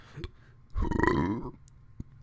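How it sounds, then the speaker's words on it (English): A single long, loud burp right into the microphone, close and resonant, lasting under a second with a short quiet before and after. "I burped right in the mic."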